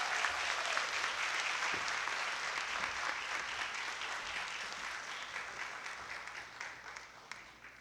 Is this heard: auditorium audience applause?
yes